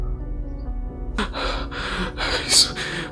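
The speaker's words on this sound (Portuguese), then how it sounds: "ele começou a ofegar sem fôlego" A man gasps and pants breathlessly in a run of short, sharp breaths that start after a quiet second, grow louder, and peak near the end.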